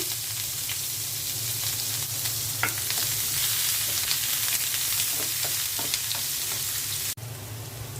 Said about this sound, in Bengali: তেল দিয়ে দিচ্ছি। চিচিঙ্গাটা ভেজে নেব। পেঁয়াজ দিয়ে দিচ্ছি।